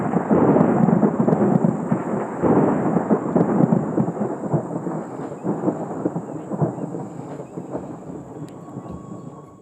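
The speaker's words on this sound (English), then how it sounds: "Just before dark we had a thunderstorm." Thunder rumbles through a Namibian thunderstorm just before dark, a broad, loud, continuous low roar that slowly fades over several seconds, with no talking.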